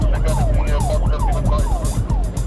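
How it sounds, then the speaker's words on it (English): A police car siren wails continuously in a repeating rising and falling pattern, loud and close over steady engine and road noise while the patrol car pursues a suspect vehicle through London traffic, with no talking. "PC Warnes turns off the siren"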